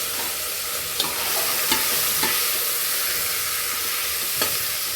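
Vegetables and curry leaves being stirred and fried in hot oil: a steady, bright sizzle with a few sharp scraping clicks from the stirring, close and continuous with no talking.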